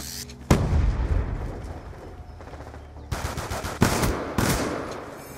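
Bursts of automatic gunfire in a shooting video game, with a long loud volley followed by a few shorter, sharp bursts.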